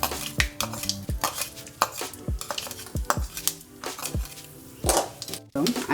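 Biryani rice and mustard seeds fry in a pan while a spoon stirs, giving sharp repeated scraping clinks and taps over a light sizzle.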